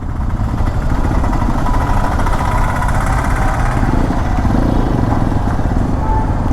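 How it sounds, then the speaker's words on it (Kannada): A brand-new Hero XPulse 210 motorcycle idles steadily and close by, its engine note a dense, continuous low rumble that holds an even level throughout with no revving or voices. "ಒಳ ಇಂಜಿನ್ ಸ್ಟಾರ್ಟ್ ಆಯಿತು, ಹೀಟು ಇಷ್ಟು ಬೇಗ."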